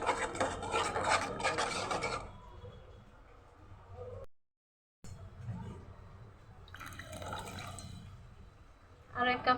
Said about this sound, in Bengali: আর 1 কাপ পরিমাণ পানি দিয়েছি।